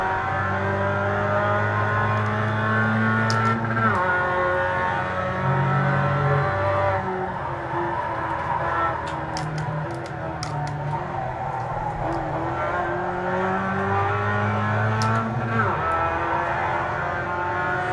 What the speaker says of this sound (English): You can just hear the rear end breaking loose under acceleration.